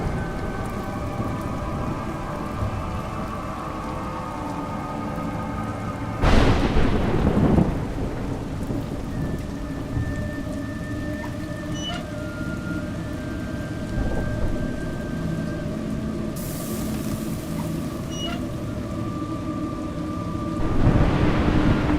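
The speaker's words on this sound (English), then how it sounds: "It's raining" Steady video-game rain pours down with a constant hiss, broken by a couple of loud thunder rumbles and cracks, in A Juggler's Tale.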